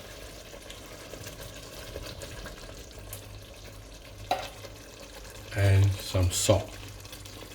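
Yogurt, evaporated milk and salt being stirred together for a lamb korma, a soft wet scraping and slopping in the pot under a speaking voice, with a few louder stirring knocks near the end.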